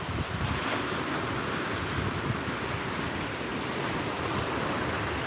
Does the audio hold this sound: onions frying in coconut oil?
no